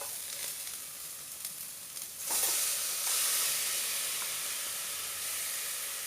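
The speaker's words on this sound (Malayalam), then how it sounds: "ഇതിനകത്തോട്ട് നമുക്ക് ഈ അരപ്പ് തട്ടിയിടാം." A ground coconut, onion, garlic, cumin and green chili paste drops into a hot pan, with a soft hiss that swells into a steady, moderately close sizzle, punctuated by faint stirring clicks.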